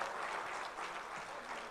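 An audience at an Urdu mushaira in Doha bursts into warm applause welcoming poet Khalid Irfan, a dense, steady wash of clapping that fills the whole short moment without any voices.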